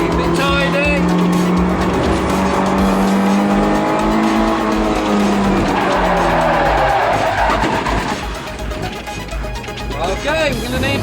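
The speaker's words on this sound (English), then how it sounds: "Driving like a racing driver now" A car is driven hard around a race track, its engine rising and falling through the gears while the tyres squeal through the corners, loud and close, with a voice talking over it at times.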